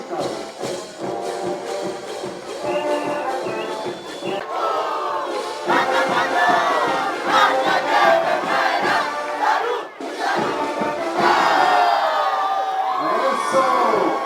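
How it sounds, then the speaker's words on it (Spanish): A street crowd at the Arica carnival in Chile cheers and shouts for dance performers, loud whoops and voices rising and falling, with applause mixed under the roar. "Fuerte el aplauso para nuestros artistas."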